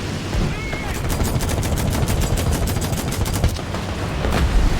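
Rapid machine-gun bursts from a World War II fighter plane in an air-combat video game, loud and continuous with dense repeated shots, over steady engine drone.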